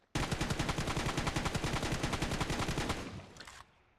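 Full-auto weapon in a shooter video game, sprayed with no attachments: a loud, rapid burst of about thirty shots at an even pace for three seconds, then a short echoing tail.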